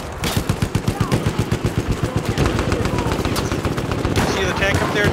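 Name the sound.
gunfire in the video game Battlefield 1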